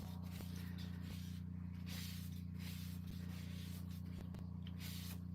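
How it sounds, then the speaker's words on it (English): A pressure washer runs steadily somewhere outdoors, heard as a constant low droning hum with a hissing spray layer that continues without a break for the whole stretch, fairly distant and unaccompanied by talk. "All I can hear is that pressure washer out there."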